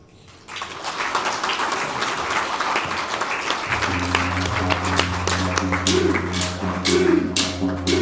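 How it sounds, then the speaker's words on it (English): Audience applause after a Welcome to Country at an Aboriginal diabetes study event, a dense crowd of clapping starting sharply and holding steady, with a low steady hum entering partway through. "I think they deserve another round of applause, please."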